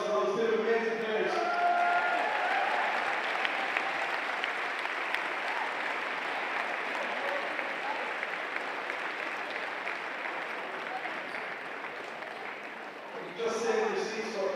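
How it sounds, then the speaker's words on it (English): Sustained applause from a crowd at the World Wallball Championship presentation, steady and dense for most of its length, with brief voices at the start and near the end. "Please give another massive round of applause for those two amazing players."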